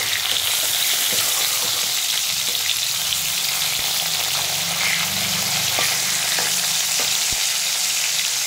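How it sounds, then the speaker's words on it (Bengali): Rohu fish pieces sizzle and crackle steadily in hot oil in a karahi, fried until reddish-brown; a dense continuous frying hiss with occasional sharp pops and scraping stirs. "এরকম মাছগুলো লাল লাল করে ভেজে নিলাম"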